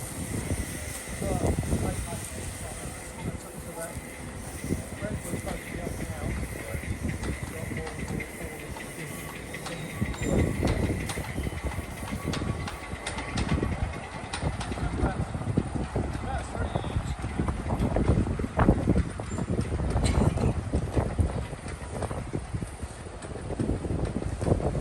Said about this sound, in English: We're now trundling around with the Met Loco, and we've got 6 coaches on the back and a Great Western siphon.